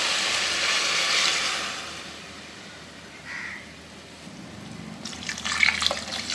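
Water is poured into a pan of kulambu curry with sautéed brinjal and drumstick, a steady hissing pour that fades, followed by brief splashing and trickling near the end.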